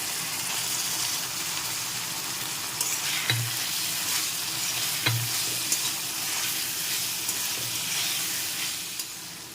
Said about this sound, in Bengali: এখন এর মধ্যে টমেটো টুকরোটাও দিয়ে দেবো একসাথে সব কিছু আরও কিছুক্ষণ নেড়ে একটু ভেজে নেবো